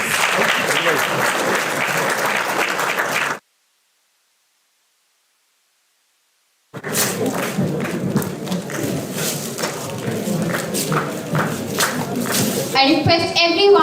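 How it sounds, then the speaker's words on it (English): Conference audience applause at an international conference on communication, security and artificial intelligence: two loud bursts of crowd clapping split by a few seconds of dead silence, the second stretch longer and busier. "I request everyone to give a big round of applause."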